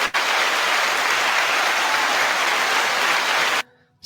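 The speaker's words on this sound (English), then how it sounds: "we'll give you a little round of applause." A dense, loud burst of applause runs without a break for several seconds, then cuts off abruptly into near silence.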